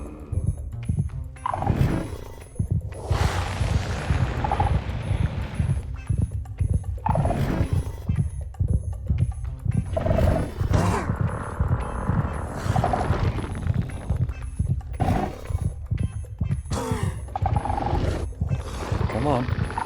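Minecraft's Warden lets out deep roaring growls in a game, rising and falling across the stretch over a constant low game backdrop, with a player talking throughout.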